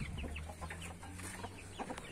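Chicks and chickens cluck and peep in short, soft bursts, close but quiet, over a low background hum.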